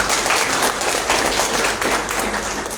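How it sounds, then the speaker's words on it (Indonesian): An audience at a national seminar on young entrepreneurship gives a round of applause, a steady, fairly loud wash of clapping that fades slightly toward the end. "Kita beri tepuk tangan"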